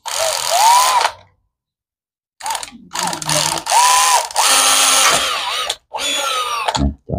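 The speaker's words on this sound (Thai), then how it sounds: "เจาะนำไปก่อนนะครับ นะเจาะด้วยดอกเล็ก" A power drill with a small bit bores a pilot hole for fitting a switch on a Honda Dax125/CT125 motorcycle, running loud and close in several whirring bursts separated by short pauses.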